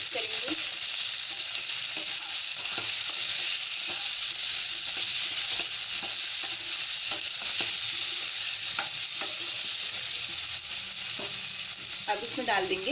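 Potatoes with turmeric, salt and green chilli sizzle steadily in a pan over a low flame, while a spoon stirs and scrapes at irregular intervals, up close and without talk.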